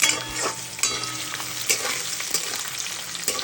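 Onion frying with other ingredients in a pan, giving a steady close sizzle broken by repeated scraping stirs, with no talking.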